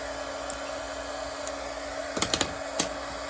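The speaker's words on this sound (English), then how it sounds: "I get the heat gun going here" Heat gun running steadily for card-making, a constant blowing whir with a few sharp clicks and taps over it, close by.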